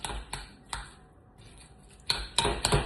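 Chicken mince dumpling filling mixed by hand in a bowl: several sharp clinks and scrapes of a utensil against the bowl, close and fairly quiet, with soft wet handling between them and no talk.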